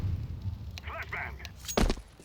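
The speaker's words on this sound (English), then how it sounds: "Flashbang." A Counter-Strike flashbang pops on de_train with a sharp, bright crack and thud near the end, after quieter game sounds and brief voice-like murmurs.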